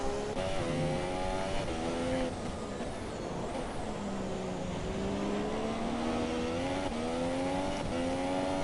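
Race car engines in the F1 2017 video game at the Brazil circuit, several whining pitches rising and falling as cars accelerate, running steadily throughout beneath a commentator's voice.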